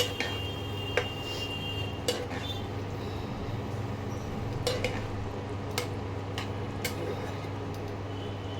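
Beaten egg being stirred into chicken in a pan for restaurant-style murg rashida, with light scrapes and clicks of the spoon roughly once a second over a steady low kitchen hum.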